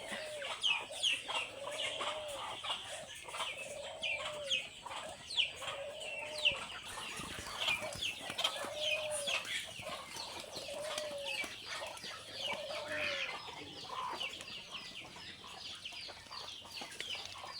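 Ducks in a farm pen give a regular series of nasal quacks and clucking calls, repeating about every second or two, moderately close over faint outdoor background.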